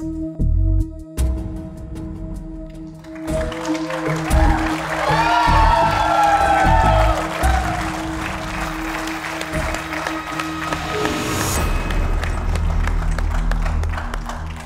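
A studio audience on a televised game show applauds after a round ends, a broad wash of clapping that swells in the middle and holds steady before easing, with scattered cheers mixed in.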